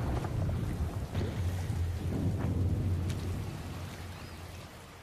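A heavy rainstorm pours steadily while low thunder rumbles and rolls beneath it, loud and close at first and then easing slightly, with no voices.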